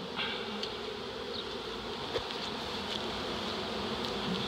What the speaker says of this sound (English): I think these bees will stay here till after dark.